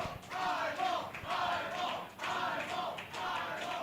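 Crowd at an esports tournament in Toronto cheering and chanting in pulsing waves, a loud sustained roar from a distance with rhythmic swells.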